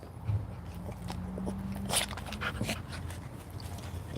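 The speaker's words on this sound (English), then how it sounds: "it's my dog that's starving for another treat." A dog chews a treat up close with wet crunching bites and a few sharp crackles, while soft panting runs under the bites.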